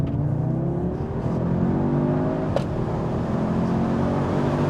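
An Audi S3 Saloon 8Y accelerates hard down a lane with a steady, loud engine roar and a rising whir, building continuously with no gaps over several seconds, heard from inside the car.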